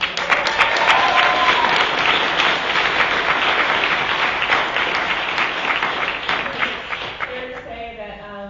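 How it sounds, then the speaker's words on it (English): A summit audience breaks into loud, dense applause for an arts organization award winner, the clapping sustained throughout and gradually thinning toward the end, with some faint voices mixed in. "so another round of applause"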